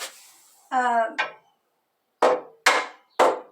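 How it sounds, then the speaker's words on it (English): In a workshop, a hammer strikes wood three times in sharp, evenly spaced knocks, close and loud, after a short stretch of speech. "hammer that back just a tiny bit on that"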